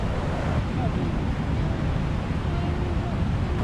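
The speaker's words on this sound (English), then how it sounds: "it's probably pretty hard to hear with this water running over here" Water rushes steadily and loudly close by at a lakeside or streamside fishing spot, a constant broadband hiss with no breaks.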